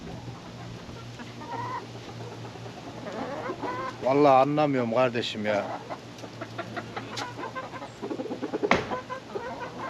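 Chickens cluck and squawk nearby as one is chased, with a rising, agitated run of calls in the middle, while someone talks over the commotion.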